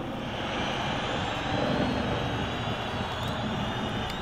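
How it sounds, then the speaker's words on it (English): A helicopter passes overhead, its broad engine and rotor roar steady and loud throughout, with no talk over it. "Again, another helicopter going over"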